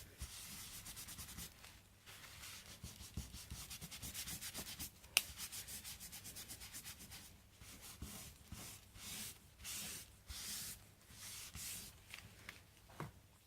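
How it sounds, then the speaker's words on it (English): Excess embossing colour is wiped off a papercraft surface with repeated soft, close rubbing strokes in a quick, uneven rhythm, faint and alone without talk. "just to wipe off that excess colour of our embossing"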